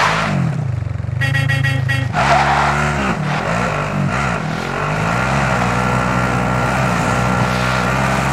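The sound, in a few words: car being driven in Call of Duty Warzone video game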